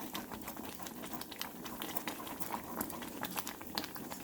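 Grits cook in a pot, bubbling and popping steadily at close range with a dense, continuous simmering patter.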